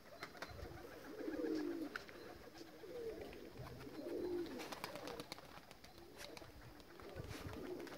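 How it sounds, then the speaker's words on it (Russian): A pigeon coos outdoors in several soft, repeated rounds of low cooing, fairly faint against a background of wind and rustling. "Вот он голубь с красным хвостом."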